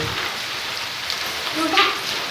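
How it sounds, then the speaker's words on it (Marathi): Steady rain hisses throughout in a garden, a soft even patter on surfaces, with a few faint higher tones rising briefly near the end. "पावसानं सुरुवात केली"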